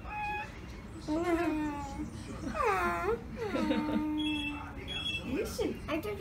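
Several high, drawn-out whimpering whines from a dog, close by, repeating in short bursts with some voices in the background.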